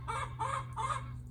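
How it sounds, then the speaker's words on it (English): Chickens cluck outdoors, three short rhythmic bursts of clucking at moderate distance over a low steady hum. "we got some juicy chickens out here"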